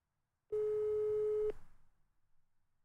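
A telephone ringback tone sounds once on an outgoing call, a clean steady beep lasting about a second, then fades out into silence.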